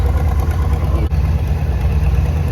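A vintage Minneapolis M farm tractor idles at a summer threshing show, a steady, close, low-pitched engine chug holding an even rhythm throughout.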